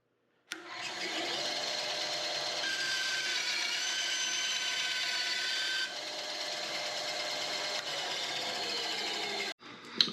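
Wood-cutting bandsaw blade running through metal, a steady whining buzz held for about nine seconds. It starts and stops abruptly, close and loud with no talking.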